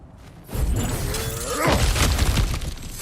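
Kratos smashes through cracked ground in God of War Ragnarok: a heavy crunching break with shattering debris and a low rumbling boom, loud and close, with no voices.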